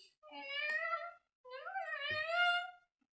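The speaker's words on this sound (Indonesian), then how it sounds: "Karena masih kecil, jadi suaranya masih seperti suara anak kucing." A young kitten gives two drawn-out, high-pitched meows, separated by a short pause, close and clear against silence.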